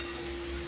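Okra frying in hot oil, a steady, even sizzle with a faint bubbling texture, continuous and close for a brief moment.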